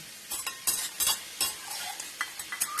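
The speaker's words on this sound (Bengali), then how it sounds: "পেঁপেটায় যে দেব বড়িটা সেটা কিন্তু হালকা আমরা ভেজে নেব" Bori lentil dumplings lightly frying in a pan for a papaya dish, a steady close sizzle broken by repeated scraping stirs of a spatula at an uneven rhythm, with no speech.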